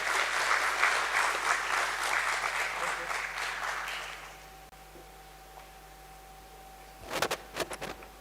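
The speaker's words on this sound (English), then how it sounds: "Let's welcome him with a huge round of applause." An audience at a stock exchange listing ceremony claps in a dense burst that fades out after about four seconds, leaving quiet room hum before a few sharp handling knocks near the end.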